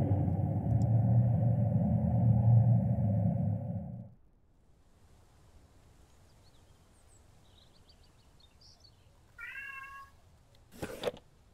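A cat meows briefly in the survival video game Mist Survival. It comes after a loud, low rumble fades to near silence, followed by one sharp closing sound.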